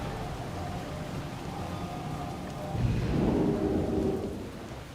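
A thunderstorm in World of Warcraft brings steady rain hissing throughout, and partway in a deep rolling thunder rumble swells up and lingers before easing, with no voices over it.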